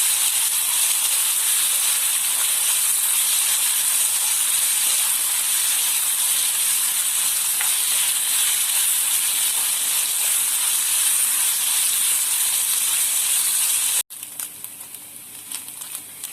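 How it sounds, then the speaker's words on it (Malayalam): Chicken pieces fry in hot oil in a pan, giving a loud, continuous sizzling hiss that holds steady for a long stretch before cutting off abruptly near the end. "ചിക്കൻ ഫ്രൈ ആയിട്ടുണ്ട്."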